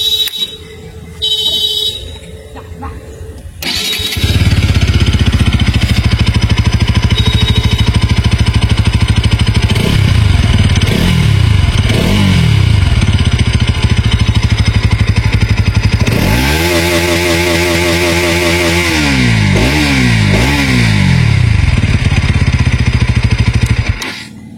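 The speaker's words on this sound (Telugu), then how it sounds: "ఇంకా NS 200 లో అండర్బెల్లి ఎగ్జాస్ట్ అయితే ఉంటుంది. సౌండ్ కూడా వినడానికి చాలా బాగుంటుంది" A Bajaj Pulsar NS 200 with an underbelly exhaust starts after a short rustle, then idles loudly and steadily, breaking into several sharp throttle blips that rev up and drop back, including one longer rising rev.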